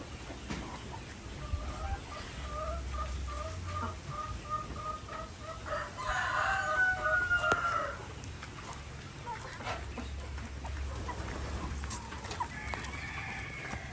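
Free-range chickens cluck repeatedly in their ranging area outdoors, a quiet series of short rhythmic calls with a louder crowing-like burst midway, over faint background noise.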